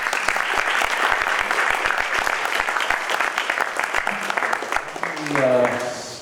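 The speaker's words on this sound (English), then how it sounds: "Let's give Tim a round of applause one more time." An audience applauds a speaker after a Q&A session, with brisk, fairly close clapping that holds steady for about five seconds and then thins out as a voice begins talking near the end.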